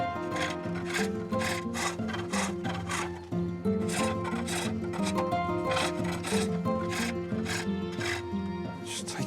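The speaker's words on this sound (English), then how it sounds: "turning the cylinder into a pulley by cutting a groove in its rim" A wooden cylinder being turned into a pulley as a tool cuts a groove into its rim, giving repeated rhythmic rasping, scraping strokes of wood on tool, close and loud, continuing steadily without speech.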